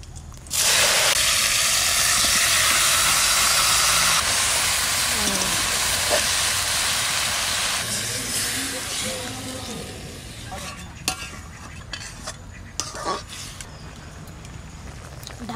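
Marinated fish and eggplant land with cumin in a hot kadai and burst into a loud, steady sizzling hiss that holds, then slowly fades and thins with a few faint clinks near the end.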